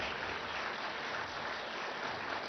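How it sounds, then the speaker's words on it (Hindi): Loud, steady applause from a large audience at a political event as Chhattisgarh Chief Minister Bhupesh Baghel is invited onto the stage, dense clapping that holds evenly throughout with no talk over it. "जोरदार तालियां जरा हो जाए।"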